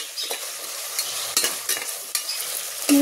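Potatoes frying with ginger garlic paste in a pan, stirred with a spoon: a steady loud sizzle broken by several distinct scraping strokes against the pan, close up with no talk.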